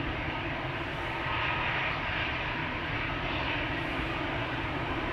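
A jet airliner roars steadily past on departure from Amsterdam Schiphol Airport, a broad continuous engine rumble heard from a distance.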